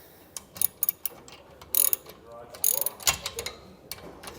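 Socket ratchet clicking in short irregular bursts while tightening nuts on a B and W Companion OEM fifth wheel hitch on a 2023 Chevrolet, with close metallic ticks and tool clatter.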